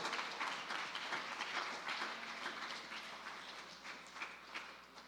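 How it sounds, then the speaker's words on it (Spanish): Church congregation clapping hands during a worship service, a dense, steady wash of many palms held at a strong, even level for the whole stretch. "Démosle esas palmas fuertes al Señor."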